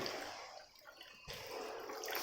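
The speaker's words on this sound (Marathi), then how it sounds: "थोडंसं अजून पाणी मी वाढवते" Water splashing and trickling as it is poured into thick boiling urad dal amti in a pot, a steady close wash of liquid noise with a brief break midway.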